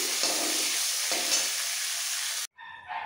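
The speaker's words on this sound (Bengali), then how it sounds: "এক দুবার নাড়াচাড়া দিলেই উচ্ছে ভাজা হয়ে যাবে।" Bitter gourd fries in hot oil with a loud, dense hiss that swells with a couple of stirs, then cuts off abruptly, and a short voice follows.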